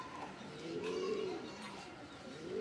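A female racing-club pigeon gives a steady, low, rolling coo that rises and falls over a constant hiss of background noise, heard nearby with no talking.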